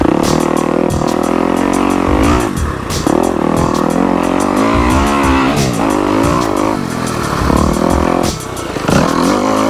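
A vehicle runs a sighting lap at night on the race track at Southern Training Facility & Raceway in Georgia. A loud, close engine drones continuously with rising and falling revs and brief dips at gear changes.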